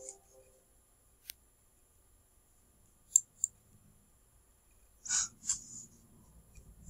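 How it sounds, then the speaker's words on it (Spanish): Mouse clicks in computer software while diversity indices are calculated in PAST: a few sharp, faint isolated clicks spread across a quiet stretch, with a short cluster near the end and soft breathing or handling noise. "le damos un clic para que todo se ponga azul"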